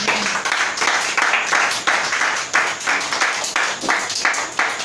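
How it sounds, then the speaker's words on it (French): A church congregation applauds in praise of the word of the Lord, steady loud clapping from many hands swelling in rhythmic waves, with no talking. "Acclamez pour la parole du Seigneur."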